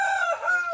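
A native chicken rooster gives one short, bright crow, close and clear against a quiet background.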